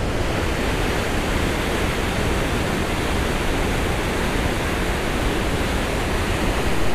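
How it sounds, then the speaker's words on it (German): Glacier meltwater waterfall at Briksdalsbreen, Norway, roaring with a steady dense rush that fills the whole spectrum, loud and close, unbroken for the full length with no voices. "Das Tosen des Gletscherwassers verstummt langsam hinter den Bergen."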